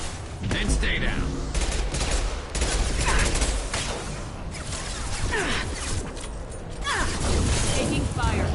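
Heavy gunfire in the Mass Effect 2 video game, with dense bursts of automatic shots and impacts going on almost without pause, along with shouted combat voices.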